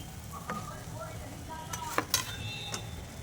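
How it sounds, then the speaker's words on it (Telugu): Aloo bread pakoda frying in hot oil on its second side, a steady soft sizzle broken by a few sharp metallic clinks of a utensil against the pan. "వీటిని కూడా సెకండ్ వైపు ఫ్రై చేసుకుందాం."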